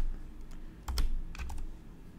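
Quiet clicking of a computer keyboard during app coding, with a few scattered keystrokes followed by a short burst of faster taps, close and soft.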